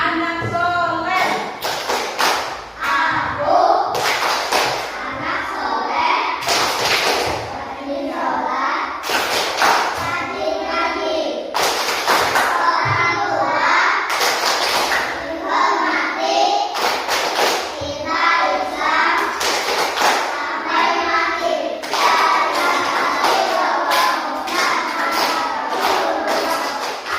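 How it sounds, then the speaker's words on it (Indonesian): Children stand and perform the Indonesian 'tepuk anak soleh' clapping chant in a classroom, sharp rhythmic hand claps in bursts alternating with loud chanted group voices, repeating steadily throughout. "kita akan melakukan tepuk anak soleh"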